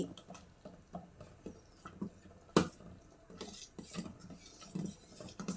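A spoon stirring sago and vermicelli payasam in a metal pot, giving repeated scraping clinks and soft sloshing taps at an irregular rhythm, close and fairly quiet with no voices.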